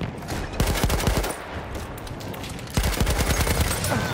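An MG08/18 machine gun fires in a video game battle, with loud rapid bursts of closely spaced shots in two runs, a brief lull between them, over constant battlefield noise.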